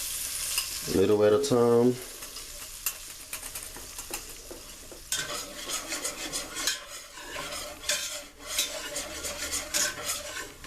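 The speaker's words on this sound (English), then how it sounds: "We're just going to stir this until it browns." Flour is whisked a little at a time into hot oil for a seafood gumbo roux, giving a steady scraping, sizzling stir that runs on after a short spoken phrase near the start.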